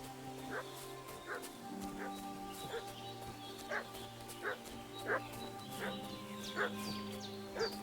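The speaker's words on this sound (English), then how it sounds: "What's that dog making such a fuss about?" A dog in the video game Kingdom Come Deliverance II barks and fusses in an agitated way, sharp barks repeating every second or so at moderate distance over steady in-game ambience and music.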